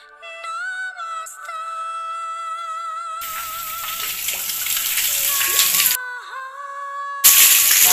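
Water streams steadily from a temple fountain spout, splashing loudly in two stretches that start and stop abruptly, with sustained tonal ringing sounds heard between and beneath the flow.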